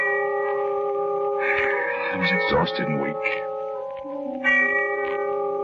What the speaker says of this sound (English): the sound of the distant bell faded out as I thought